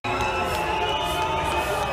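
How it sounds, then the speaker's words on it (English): A dense crowd in Paris cheers, yells and claps for the French president, a steady close roar of many voices with no break across the whole moment. "people would start like clapping and yelling"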